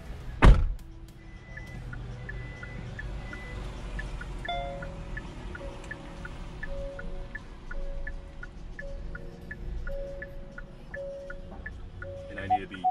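Close-up clunk of a car door opening on a 2019 Hyundai Nexo fuel cell SUV, followed by a faint run of soft electronic chimes and beeps over quiet cabin hum.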